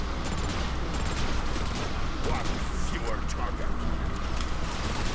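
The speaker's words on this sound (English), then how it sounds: "I guess it do make sense that you would try to run from an artillery strike" A continuous, dense barrage of explosions and rapid gunfire from an artillery strike in the game Transformers: Fall of Cybertron, with a rumbling wash of noise, while a person talks over it.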